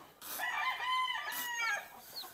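A rooster crows loudly and close by, two long drawn-out calls one after another, with no talking.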